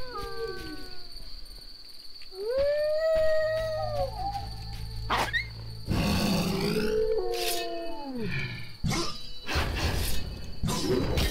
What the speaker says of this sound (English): Rabid dog.